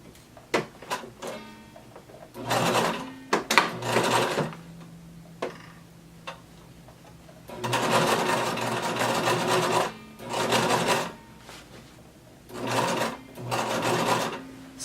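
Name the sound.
sewing machine understitching close to the seam allowance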